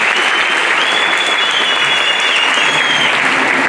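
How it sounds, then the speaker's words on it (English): Sustained round of applause from an audience at a disability rights event, steady dense clapping filling the whole stretch without pause, fairly loud and near. "Can we give Sister a nice round of applause?"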